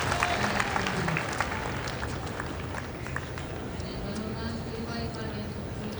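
Tennis crowd at the US Open applauding an underarm serve during a second-round match, a steady wash of clapping from a large stadium audience that swells early and then holds at a moderate level with scattered claps throughout.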